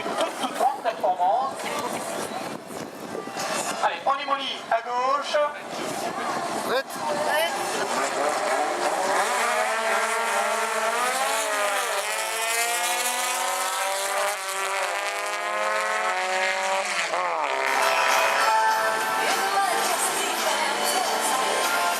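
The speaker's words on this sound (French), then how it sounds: "on attend les moteurs turbo à gauche" Turbo-engined race cars on a drag strip rise through their gears with loud, climbing engine whine and roar for several seconds. An announcer talks over a loudspeaker at the start.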